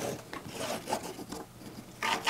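Pen or marker scratching across quilting fabric along a ruler, a soft rasping rub in short strokes, close and quiet, with no talk.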